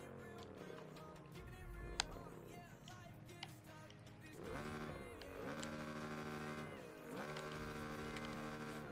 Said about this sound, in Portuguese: O ronco da moto.